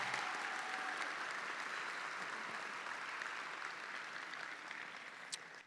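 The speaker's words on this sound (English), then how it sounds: "how about a round of applause for all these wonderful people sitting behind you" Continuous audience applause at a college commencement ceremony at St. Francis College, a broad even wash of clapping from a large crowd, steady throughout with a slight fade near the end.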